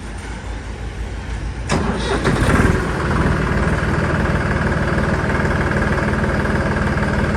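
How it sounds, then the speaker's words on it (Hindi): A Massey Ferguson 9500 Smart tractor engine with micro pump, turbo and diaphragm cranks and catches, then settles into a steady, close, even-paced diesel idle. "अब आपको ट्रैक्टर की आवाज़ सुनाते हैं किसान भाइयों।"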